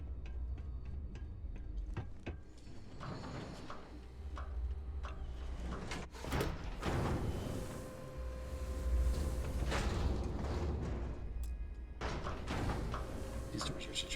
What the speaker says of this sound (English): These doors are such a pain in the ass.